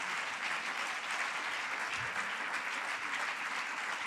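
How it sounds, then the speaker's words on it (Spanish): A church congregation claps steadily and loudly throughout, a dense, continuous wash of applause at a worship service with no pauses. "Dele fuerte el aplauso al Señor."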